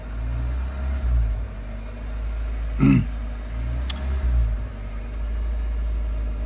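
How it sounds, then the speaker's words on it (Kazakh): A car engine with an unstable idle rumbles steadily and close as the gas pedal is pressed, with a brief rough burst partway through before it settles back to a low drone. "Мен қазір газды басып жіберем педальда."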